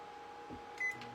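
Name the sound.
microwave oven running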